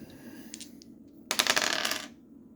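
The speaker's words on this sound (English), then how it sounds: "So let's go ahead and roll the dice here for the next one." Dice rattle and tumble across a surface during a tabletop game, a single close, lively burst of clattering lasting under a second with no talking.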